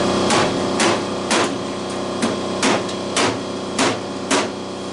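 An old metal fan being scrapped for copper is struck with a hammer to knock its side off: about eight sharp, ringing metallic blows come at a fairly even pace, loud and close, with no talking.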